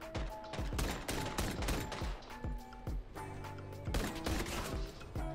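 Gunfire in COD Mobile during a one-on-one match: dense, loud strings of rapid shots in quick bursts, a short lull with a mechanical hum, then more rapid fire near the end.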